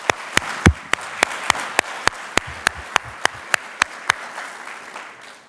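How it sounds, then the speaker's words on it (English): Sparse, evenly spaced handclaps from an audience at a keynote talk on lack of access to the law, sounding like a slow, steady round of clapping that thins out and stops, leaving quiet room tone. "So yeah, give him a round of applause."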